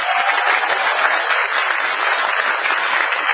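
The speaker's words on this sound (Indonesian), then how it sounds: "Untuk tepuk tangan." An audience breaks into loud, dense applause that runs steadily through the whole stretch, close and full, with no pauses and no voices rising above it.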